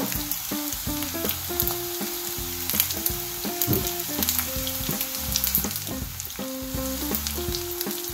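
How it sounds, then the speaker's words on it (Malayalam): Leftover-rice cutlet frying in a pan with its first side already golden, giving a steady close sizzle with crackling bursts and a low patterned hum underneath, no voices. "ഇനി മറ്റേ ഭാഗം ഒന്ന് ഫ്രൈ ചെയ്യാനായിട്ട് വെയിറ്റ് ചെയ്യാം."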